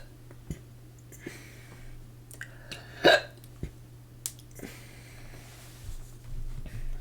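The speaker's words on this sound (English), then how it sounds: "do be having the hiccups though" A person hiccups close by, with one sharp, pronounced hiccup among several softer throat clicks and breaths, spaced irregularly with no talking.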